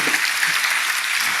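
A church congregation claps together during a worship service, a steady dense wash of applause that holds evenly throughout with no talk on top.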